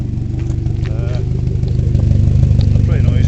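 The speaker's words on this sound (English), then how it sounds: "Exhausts are straight through." Lotus Elite S1 engine with straight-through exhausts running steadily with a deep, throbbing idle that gradually swells louder, while someone talks over it.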